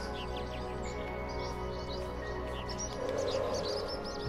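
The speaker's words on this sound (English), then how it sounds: "it said that this was a bird sanctuary. All those birds are up in those little nests" Birds chirping at a bird sanctuary in the video game AER, with scattered soft tweets and short calls over a steady low ambient hum, moderately faint and with no talking.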